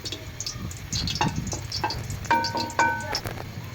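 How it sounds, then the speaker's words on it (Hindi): Four cardamom pods crackling in hot ghee in a pan, giving soft intermittent sizzles and pops with a few sharper ticks, close and fairly quiet. "घी हमारा गर्म हो चुका है। अब हम 4 इलायचियाँ डाल देंगे।"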